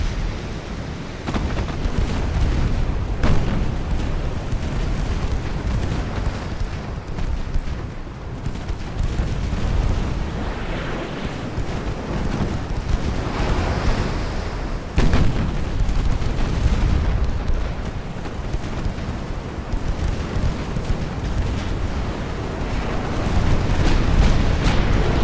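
Heavy, continuous naval battle in the warship game Ultimate Admiral: Dreadnoughts, with torpedo hits bursting into deep, rumbling explosions that overlap one another at a steady loud level for the whole stretch, with no voices.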